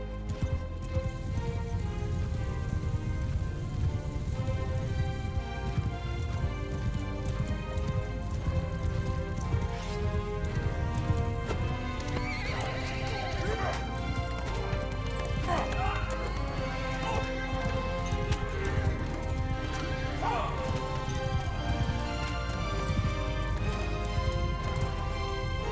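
Cavalry horses gallop in the medieval battle game Mount & Blade Bannerlord, a steady drumming of hoofbeats that carries through the whole stretch under loud music and battle noise, with shouted voices mixed in.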